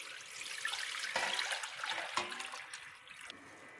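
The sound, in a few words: water pouring into cooking pot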